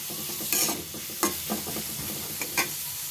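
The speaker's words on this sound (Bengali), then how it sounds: "যাতে শুধু পেঁয়াজটা ভাজা হয়, খুব বেশি তেল লাগবে না, হালকাভাবে পেঁয়াজটা আমি ভেজে নিব।" Chopped onions frying lightly in a little oil for a beef pitha filling, a soft continuous sizzle broken by several sharp scraping stirs of a spatula in the pan.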